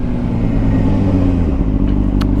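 A motorcycle riding along a gravelly, salted winter road in Pennsylvania in December, a loud, close, steady low engine rumble with constant road and wind noise.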